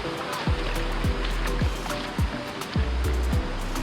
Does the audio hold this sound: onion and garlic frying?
no